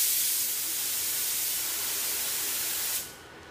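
A paint spray gun blasts a steady, loud hiss of atomized paint while laying a vertical test pattern, holding even for about three seconds before cutting off abruptly, with no voices.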